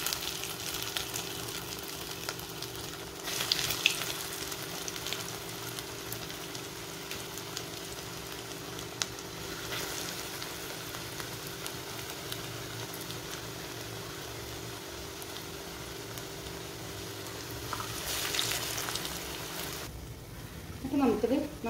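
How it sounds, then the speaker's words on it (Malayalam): Beetroot cutlets shallow-fry in hot oil with a steady, moderate sizzle that swells and eases, and a faint voice is heard now and then. "ഇനി നമുക്ക് ഷാലോ ഫ്രൈ ചെയ്തെടുക്കാം"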